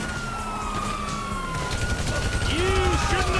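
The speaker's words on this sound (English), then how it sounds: "you hear that? Sirens." Police sirens wail in a video game, a rising and falling tone over a busy background of game noise and rumble, growing somewhat louder toward the end.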